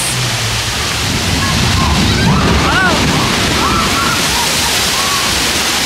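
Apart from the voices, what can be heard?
water splashing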